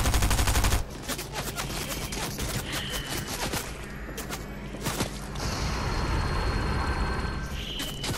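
Rapid gunfire crackles in Fortnite, bursts of automatic shots in quick clusters with a heavy blast at the start. There are short gaps between the volleys and no voices.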